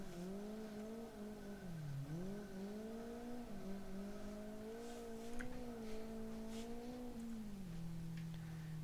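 A car engine in a racing video game hums quietly during a U-turn. The engine tone dips and rises in pitch as the car slows and turns, then settles into a low, even drone, faint and without speech.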